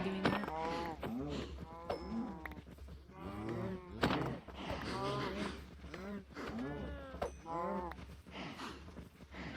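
Young calves mooing repeatedly in Minecraft, a string of harmonic bleating calls at moderate level, often overlapping, over a steady low hum from the game.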